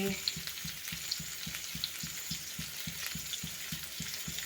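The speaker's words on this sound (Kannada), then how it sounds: "ನಾನಿಲ್ಲಿ ಒಂದು ಬಾಣಲೆಗೆ ಈರುಳ್ಳಿ ಮತ್ತು ಹಸಿಮೆಣಸು, ಕಡಲೆಬೇಳೆ, ಚಕ್ಕೆ, ಲವಂಗ" Onion, green chili, chana dal, cinnamon and clove sizzle steadily in a pan, with a regular rhythmic scraping of stirring about twice a second under the constant frying hiss.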